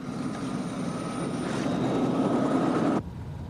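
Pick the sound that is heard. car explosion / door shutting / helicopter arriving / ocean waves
helicopter arriving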